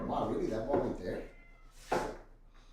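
A cat meows once in a short, bright call that cuts in after a stretch of people talking, with speech continuing faintly around it.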